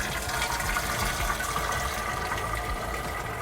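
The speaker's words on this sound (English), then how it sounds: "I can just go ahead and pour this hot mulled juice right on in." Hot mulled cranberry juice gushes into a stainless steel keg, a loud, continuous rushing pour with a hollow splashing fill that holds steady throughout.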